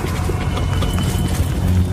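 Horse hooves clip-clop steadily on a hard surface, a busy continuous patter of hoofbeats over low rumbling background noise, with no one talking.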